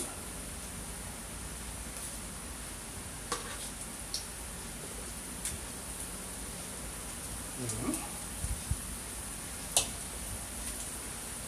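Banana fritters fry in hot oil with a steady, hushed sizzle, punctuated by a few faint clicks and taps from handling the pan.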